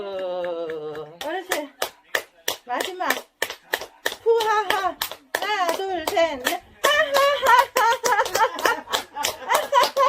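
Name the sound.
fist clapping during home exercise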